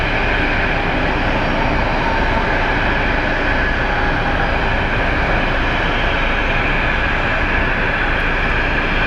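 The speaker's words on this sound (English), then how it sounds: "It's an A321 coming from Minneapolis to Phoenix." An Airbus A321 airliner landing at Phoenix Sky Harbor airport produces a loud, continuous broadband jet roar with a steady engine hum that holds throughout, with no voices.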